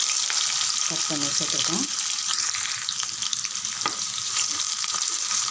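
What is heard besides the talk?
sliced onions frying in oil with fennel, cinnamon, cloves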